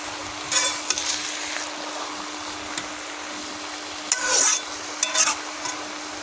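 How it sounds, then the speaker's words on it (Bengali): Jute leaves (pat shak) being stirred in a frying pan, with several distinct scraping strokes over a soft, steady sizzle, close by and with no voices. "আমি ভালো করে নেড়ে দিলাম।"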